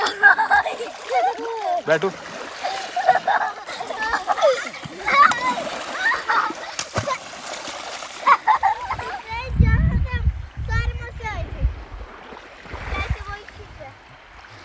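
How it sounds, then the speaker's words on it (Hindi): Hands slap and splash in water at an outdoor spot in Estonia, several bursts of splashing close by, mixed with children's and adults' voices talking and laughing. "आप दोनों ऐसे पानी में हाथ मारो"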